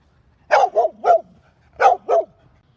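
Dogs in outdoor shelter kennel runs bark sharply nearby, a quick burst of three barks, a pause, then two more, with a quiet background between them.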